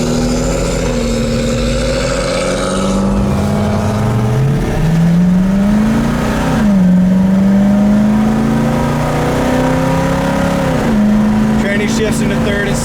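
A 1967 Ford Mustang engine running while driving, a loud steady drone whose pitch rises and falls as it revs and shifts, heard up close with someone talking over it.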